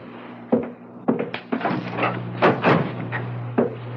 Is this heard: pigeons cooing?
no